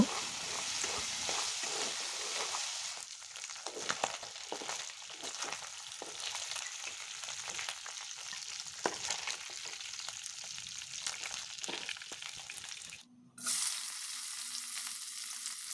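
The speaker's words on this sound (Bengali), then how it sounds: "শুটকি ওগুলা আর সাথে কিছুটা রসুন দেব দিয়ে ভালো করে একটু কিছুক্ষণ তেলের সাথে ভাজা ভাজা করে নেব" Dried coral fish and garlic fry in hot oil with a steady, close crackling sizzle, broken by scraping stirs, a brief pause near the end, then the sizzle resumes.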